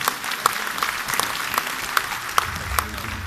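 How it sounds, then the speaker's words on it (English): Audience applause at an awards ceremony in Baguio City, a steady dense clapping that fills the whole stretch, with a few sharper claps popping out at regular intervals. "A round of applause, please."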